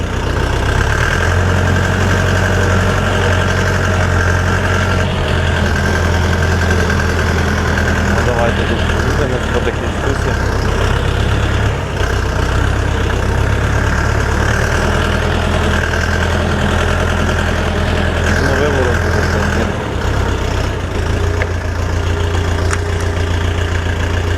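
A Dong Feng 404DHL mini tractor's diesel engine runs loud and close in first gear, a constant low throbbing drone with a slight knocking rhythm, steady throughout with a brief dip near the end.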